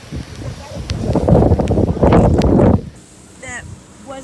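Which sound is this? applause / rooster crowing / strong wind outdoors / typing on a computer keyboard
strong wind outdoors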